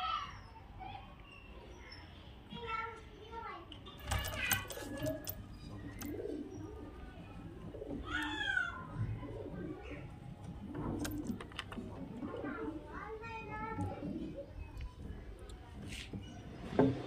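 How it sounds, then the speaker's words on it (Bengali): Pigeons of show and flying breeds coo in repeated soft, throaty phrases, some near and some farther off, over a low background with scattered clicks and faint muffled voices. "দুটোই কিন্তু খুব সুন্দর কোয়ালিটির পায়রা এবং খুব সুন্দর ওড়ানের পায়রা।"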